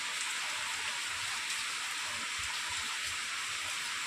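Steady rain falls and patters on surfaces in an even, continuous hiss, fairly soft and unbroken, with no voices.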